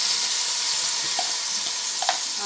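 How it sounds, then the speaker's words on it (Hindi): Frozen mixed vegetables sizzle in hot oil with a steady, close frying hiss, broken by a couple of faint clinks from a utensil near the end. "अब इनको हम फ्राई करेंगे।"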